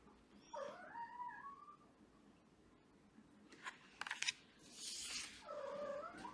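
A cat vocalizes in a few short, wavering meows and chirps, quiet and close in a calm room, with a brief rustle between the calls.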